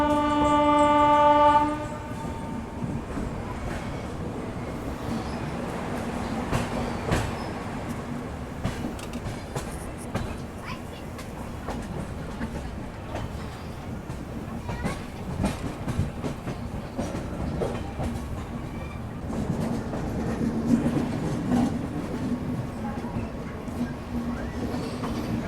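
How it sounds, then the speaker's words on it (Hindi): The Bihar Sampark Kranti Express pulls into platform 1 at Muzaffarpur Junction, opening with a short horn blast followed by a rolling rumble and clickety-clack of wheels over rail joints as the train comes in. "मुजफ्फरपुर जंक्शन के प्लेटफॉर्म नंबर 1 पर अपनी बिहार संपर्क क्रांति एक्सप्रेस आ रही है।"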